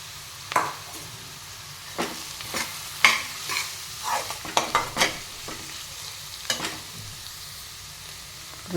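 Potatoes go into a pan of lightly sautéed onions and fry with a soft background sizzle, while a spoon scrapes and stirs in repeated irregular strokes, close up and with no voices.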